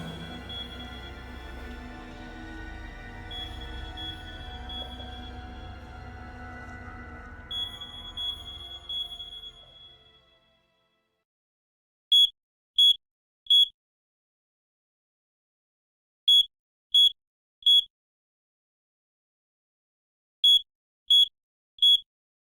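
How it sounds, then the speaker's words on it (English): Three quick high beeps from an alarm repeat in three evenly spaced bursts after a stretch of steady low background noise fades to silence. "It's just an alarm."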